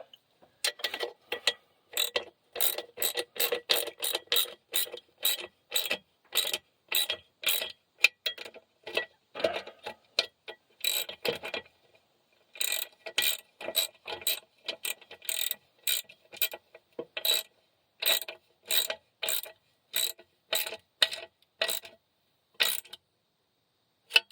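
A ratchet wrench tightens bolts on a 1965 Mack B61 dump truck. Close, crisp clicking runs in quick rhythmic bursts with brief pauses between strokes.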